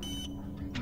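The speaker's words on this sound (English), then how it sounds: "Beep." A machine in the video game Poppy Playtime Chapter 2 gives off short electronic beeps, one tone near the start and another at the end of a brief, moderately loud moment.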